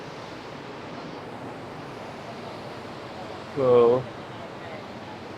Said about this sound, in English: that's a very grand waterfall.